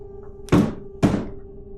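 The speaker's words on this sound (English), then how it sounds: "A thunderous, vacuous sound comes from the door." Two heavy, hollow knocks hit a door half a second apart, loud and booming with a short decay, over a low steady hum.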